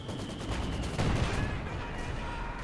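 Gunfire and mortar barrage in Company of Heroes 2, with dense rattling shots and a heavier thump partway through, layered over a busy battlefield din.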